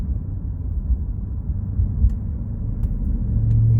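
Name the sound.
Maserati Quattroporte GTS driving and accelerating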